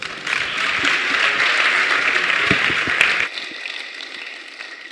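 A church congregation claps together in a dense, sustained burst of applause that ends abruptly partway through, leaving a quieter room with a few scattered sounds.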